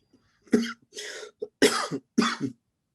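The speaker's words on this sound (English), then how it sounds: "apologies for coughing" A series of four or five sharp coughs in quick succession, close and fairly loud, with brief pauses between bursts.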